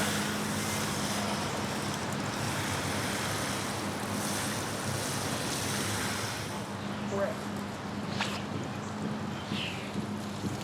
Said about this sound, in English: Now I'm just going to come down here and water this in